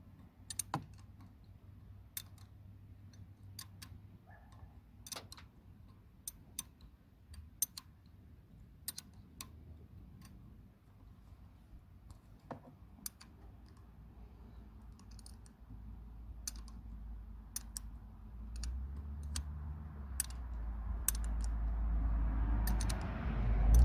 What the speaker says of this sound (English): Now we're going to tighten these up a little at a time, both sides.